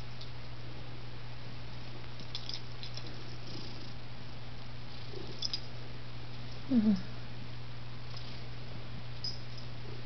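A cat purring up close, a soft steady rumble that continues throughout, with a brief light rustle partway through.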